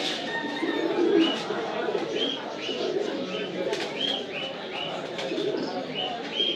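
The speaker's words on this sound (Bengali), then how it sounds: "এটা বাঙ্গি কবুতর। দেখেন এটাও বাঙ্গি কবুতর।" Bangi pigeons coo and call repeatedly at the Jinjira pigeon market in Bangladesh, short regular notes rising over a dense background of crowd noise and occasional voices.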